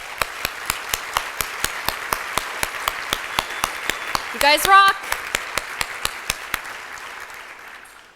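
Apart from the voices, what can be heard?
audience applause for volunteers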